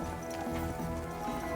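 Horse hooves clop in Kingdom Come: Deliverance 2, a quick run of muffled steps under faint game music.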